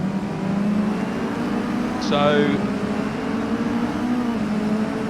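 MINI Challenge E-Series electric race cars at Brands Hatch give a steady mechanical hum with a brief whine as one passes, under continuous race commentary.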